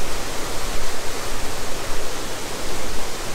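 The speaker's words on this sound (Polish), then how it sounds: "spływająca z góry masa wody." Waterfall in the mountains near Mestia, Georgia, a mass of water falling from above: a loud, continuous roaring rush of broadband noise, steady and close, with no voices.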